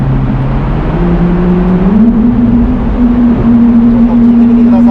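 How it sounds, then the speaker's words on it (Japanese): Ferrari 296 GTS exhaust droning steadily while driving on Tokyo's Shuto Expressway, with a close, continuous engine tone that climbs slightly in pitch partway through, no talking. "首都高に入ったんですけど、いやーエキゾーストの音すごいいい音してますね。"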